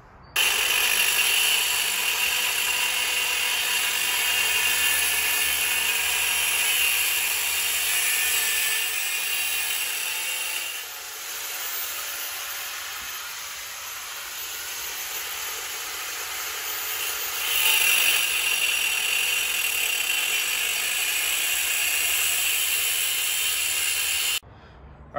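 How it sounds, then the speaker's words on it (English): An angle grinder with a cutoff wheel cuts metal for a homemade go-kart frame: a loud, steady grinding whine runs about 24 seconds, easing briefly twice before stopping abruptly. "I'm going to put my cutoff wheel on that, and I think that will give me a straighter cut for this piece."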